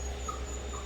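Rottweiler puppies whimpering and crying in the background, a faint, brief high-pitched whine over steady low room noise.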